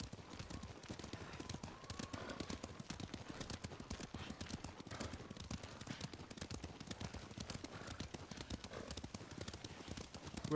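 Horse hooves clip-clop steadily in the video game Ghost of Tsushima. The rapid, continuous hoofbeats run throughout, with faint voices in the background.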